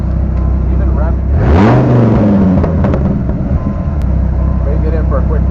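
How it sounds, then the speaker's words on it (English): A Dodge Viper engine with a running fault revs up sharply and then settles back to a steady idle, heard close by with a voice talking over it. "Even revving."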